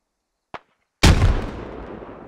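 Grenade explosions in the military shooter Squad: a small sharp pop, then a half second later a loud, deep blast that booms and slowly rolls off into a long fading rumble.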